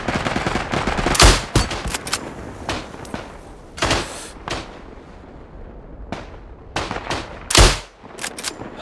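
Loud rifle and machine-gun fire in the mountain-warfare shooter Isonzo: sharp, close individual shots and short bursts at uneven intervals, with echoing distant gunfire between them.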